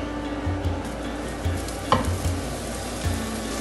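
Eggplant cooking in a frying pan for ratatouille, with a low continuous sizzle and periodic stirring scrapes and a small clink, close by.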